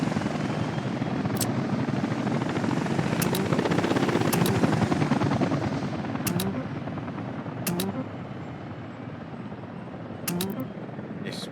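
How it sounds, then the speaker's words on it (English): Helicopters arriving in the city-building game Workers & Resources, a loud steady rotor thrum with engine whine that swells and then eases slightly, with short clicking interface sounds scattered over it. "let's just get the helicopters to come in and do some of that work"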